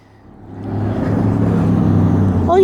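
A red truck drives past, its engine noise swelling from quiet to a loud, steady roar over about two seconds and holding close, with no talking.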